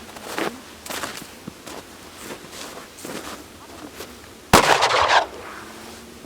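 Sharp blasts from a cut-down 18-inch Remington Model 11-48 shotgun fired outdoors at about 21 feet, several lighter cracks followed by one loud report near the end.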